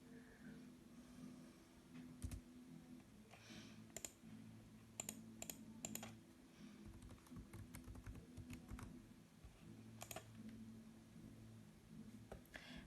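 Someone types a username and password on a computer keyboard, steady irregular key clicks running throughout with faint room hum.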